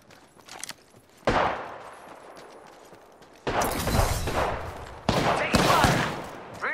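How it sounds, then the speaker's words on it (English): Bursts of automatic weapon fire ring out in an Apex Legends firefight, three loud sustained volleys separated by quieter pauses, close and harsh. "Taking fire!"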